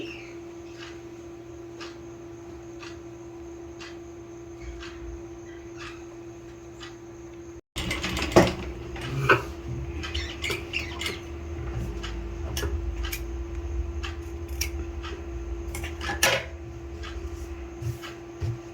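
A sewing machine stitches a sleeve, a steady motor hum under a quick, regular ticking of the needle that grows louder and busier partway through.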